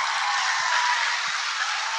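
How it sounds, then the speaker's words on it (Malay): A group of children at a political campaign gathering in Sabah applaud themselves, a dense, even wash of clapping that holds steady for a couple of seconds. "Tepukan untuk diri sendiri."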